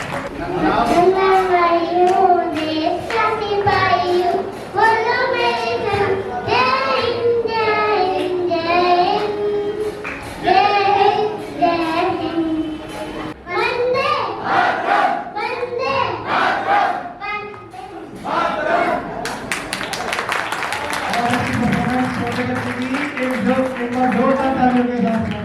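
At an Independence Day gathering of a Panchal Brahmin community association in Faridabad, a loud crowd shouts and chants together, and the noise gives way to a dense burst of clapping near the end.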